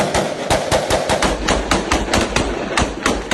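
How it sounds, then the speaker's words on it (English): Heavy gunfire during street fighting in downtown Beirut crackles in rapid, uneven bursts of sharp cracks, loud and fairly close, with echoing reports between the shots. "Today, for 5 hours, heavy gunfire rang out again."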